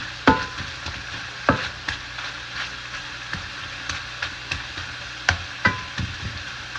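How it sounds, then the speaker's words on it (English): Meat sauce cooking in a pan, with a steady low sizzle and bubbling broken by several sharp clinks and scrapes of a utensil against the pan, close and moderately loud, with no talking. "It's good meat sauce, you know. I'm letting this cook through."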